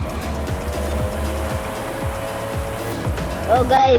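A car in Forza Horizon drifts during a race, its engine droning steadily with repeated gear shifts, and tire squeal rising near the end while a voice talks over the game audio.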